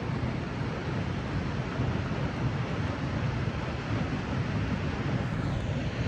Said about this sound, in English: Good little waterfall.